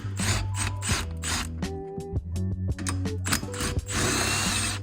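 A power screwdriver backs two 8 mm Phillips-head screws out of a metal car bracket during a short shifter install, close whirring bursts with stop-start pulses and brief pauses, no talk.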